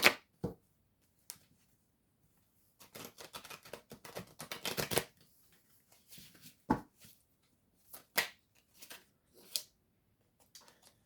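Oracle des Météores cards shuffled by hand: scattered soft clicks and taps, then a dense run of riffling and card rustle in the middle, followed by more isolated snaps, close and quiet with no talking.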